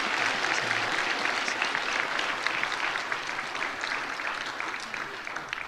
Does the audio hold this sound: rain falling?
no